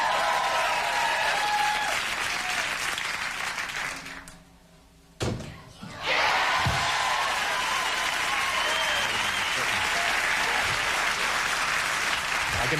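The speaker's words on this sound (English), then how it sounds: "By the way, Mary, the crowd loves you." Studio audience on a late-night talk show applauding loudly and steadily, broken by a brief drop to near quiet with a thump before the clapping swells back for several more seconds.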